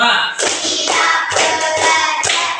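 Schoolchildren in a classroom clapping in unison to a counting clap chant: a steady series of loud, close group claps in an even rhythm, with little else heard.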